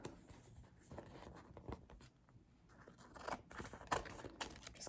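Scissors snip and crunch while cutting around an outline to trim off excess material, a quiet, close series of irregular cuts with soft rustling between them and no voices.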